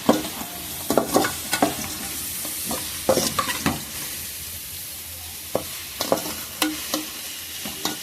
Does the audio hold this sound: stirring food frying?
yes